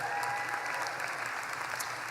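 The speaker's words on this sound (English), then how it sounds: "Please join me, as you already have done several times, in a round of applause" A graduation ceremony audience gives a steady round of applause, dense and continuous clapping from a large crowd throughout, heard from some distance in a hall.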